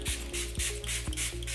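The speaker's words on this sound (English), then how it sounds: "Straight away to the rose water spray." Rose water spray bottle misting in repeated quick bursts, about three or four close, soft hissing sprays in a steady rhythm with no talking.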